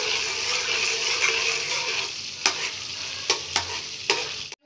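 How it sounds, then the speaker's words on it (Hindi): Steady sizzling of cumin seeds frying in hot oil, with a few sharp scraping clicks of a utensil stirring near the end. "जीरे को अच्छे से फ्राई करेंगे।"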